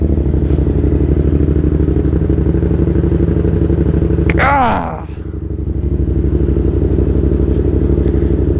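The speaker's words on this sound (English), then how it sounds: "this is literally the best sounding exhaust because I think it has the throatiest sound to it at low idles" A motorcycle exhaust idles loud and close in a steady, throaty low rumble, with one brief shout partway through.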